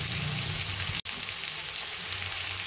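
Vegetables with drumstick flowers frying in a pan, giving a loud, close, continuous sizzle that cuts out for an instant before resuming unchanged.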